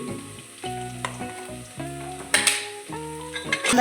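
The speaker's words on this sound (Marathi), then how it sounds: "छान परतलाय छान त्याला गुलाबी रंग आलाय मटणाला" Mutton pieces fry in a pan with turmeric, coriander powder and salt, giving a steady close sizzle broken by scraping stirs and light clinks of the utensil against the pan.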